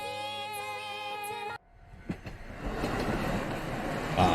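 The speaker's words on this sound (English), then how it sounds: "Classic train scene to close things." A steady musical tone cuts off abruptly, then a train rumbles past in an anime film scene, building into a loud, broad roar of wheels and carriages with faint clatter, growing nearer toward the end.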